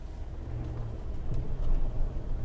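A 2008 Ford F150 King Ranch pickup on the move, its engine a steady low rumble with road noise holding fairly loud and even throughout, no voices.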